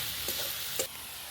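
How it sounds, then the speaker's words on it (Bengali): Onions frying in a pan with salt while being stirred, a steady close sizzle broken by two short scraping stirs. "পেঁয়াজটা খুব সুন্দর করে নেড়ে চেড়ে ভেজে নিতে হবে।"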